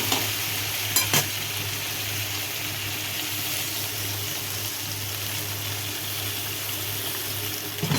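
Fish curry with potatoes sizzles steadily in a pan as it is stirred, a constant frying hiss with a couple of brief spoon knocks near the start.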